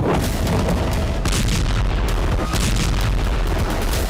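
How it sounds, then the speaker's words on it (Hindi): Loud, heavy booms from airstrikes in Lebanon roll one after another, a dense series of deep blasts with crackling rumble between them, no voices. "कई किलोमीटर दूर तक धमाके की गूंज सुनाई दी, क्योंकि एक के बाद एक कई विस्फोट हुए"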